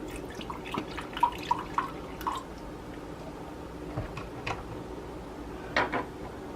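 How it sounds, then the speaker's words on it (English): Apple cider vinegar poured into a pot of stewed tomatoes in a home kitchen, heard as soft scattered drips and small wet splashes, faint and close, with no talking. "Then I add 1/4 cup apple cider vinegar."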